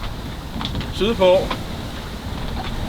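Wind rushes over a sailboat cruising in the Øresund, a steady blustery hiss with water noise beneath it, while a voice briefly speaks partway through.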